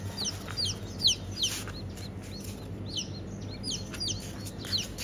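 Chicks and ducklings kept in a cage give repeated high, thin peeps that rise and fall over a low background hum. The peeps are fairly close but soft, and no one speaks.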